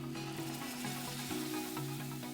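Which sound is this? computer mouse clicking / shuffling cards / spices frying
spices frying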